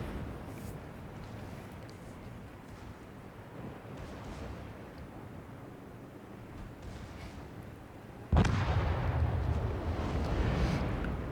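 Gunfire from the battleship Yamato in a naval combat game, a low distant rumble that builds until one sudden heavy blast, followed by a sustained booming roar.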